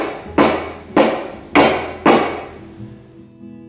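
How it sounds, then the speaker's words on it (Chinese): Four hard, sharp raps on a can lid scattered with small beans, evenly spaced and loud, each strike ringing briefly before a quiet tail. "今次大力敲打罐面，小豆跳动的幅度会比之前较大定是较小呢？"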